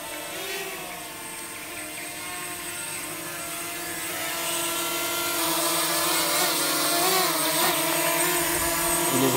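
A DJI Mavic Mini drone hovers and maneuvers to land outdoors near a parasol, its high, steady propeller whine close and continuous, rising in pitch and loudness as it shifts position.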